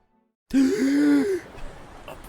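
A sharp, loud gasping intake of breath, groan-like and voiced, ending abruptly after about a second and followed by quiet.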